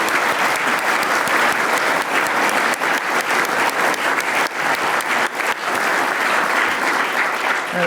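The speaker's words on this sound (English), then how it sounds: "Oh, another clap there." Loud, dense audience applause at the Glossop Medal and Award ceremony in 2024, sustained and even for nearly eight seconds, with many hands clapping together and no voices on top.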